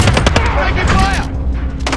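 Light machine gun fire in a Call of Duty multiplayer match on the Shoot House map: a loud, rapid burst of close automatic shots that stops sharply partway through, with game voice callouts mixed in.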